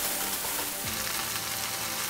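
Masala for a mahi mahi fish curry sautés in oil, a steady close hiss and sizzle that holds evenly throughout without voices.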